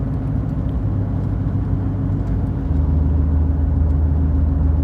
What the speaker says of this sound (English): big truck and trailer passes me